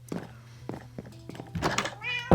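In a Minecraft-style creative game world, a cat meows several times among repeated soft thunks and footsteps. The sounds are quiet and close, and a short, higher mew comes near the end.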